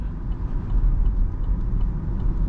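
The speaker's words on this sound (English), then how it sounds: "we're gonna gently roll into the throttle" A car pulls away gently from a stop at an intersection, giving a steady, close low engine and road rumble with little change in level and no voices.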